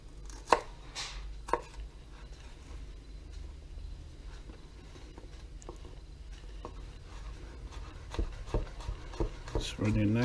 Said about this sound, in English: I'm just gonna chop it up pretty fine.